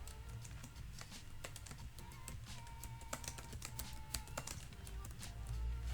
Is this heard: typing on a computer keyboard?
yes